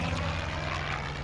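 An airplane roars in a video game, a loud, steady engine drone heard up close with no talk.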